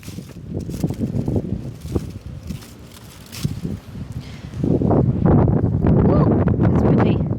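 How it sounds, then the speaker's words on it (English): Gusty wind buffets a microphone outdoors in a vegetable garden among cucumber and squash plants, rumbling and rustling in uneven surges that grow stronger toward the end. "It's windy."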